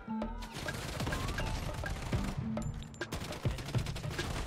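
Steady rapid gunfire from guns in the mobile shooter Project Bloodstrike, close and loud, with overlapping bursts and sharp impact cracks throughout.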